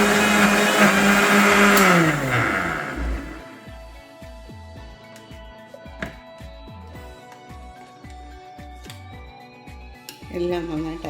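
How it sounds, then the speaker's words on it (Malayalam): A mixer grinder blends mango, chilled milk and cardamom powder into a shake, its motor whining loudly for about three seconds before winding down. Rhythmic clinks and taps of the jar follow, with a brief whir near the end. "മിക്സിയിലൊന്ന് നന്നായിട്ട് അടിച്ചെടുക്കാം"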